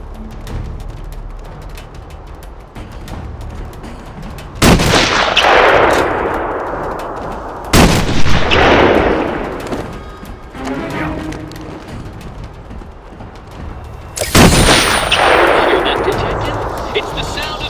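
Sniper gunfire in the Batman: Arkham Asylum video game: three loud, sharp shots spaced several seconds apart, each followed by a long echoing tail over a low ambient background.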